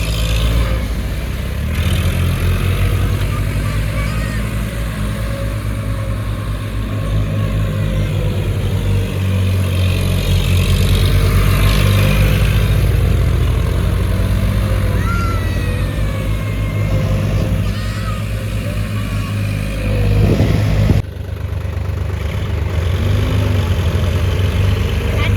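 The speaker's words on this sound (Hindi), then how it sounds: "और एक ट्रैक्टर से हो रहा है स्टंट।" A tractor engine running during a tractor stunt, with New Holland 3630, Eicher 557 and Swaraj 855 4x4 tractors present. The engine drones and revs steadily for about twenty-five seconds, loud and close, with a brief rise near the end.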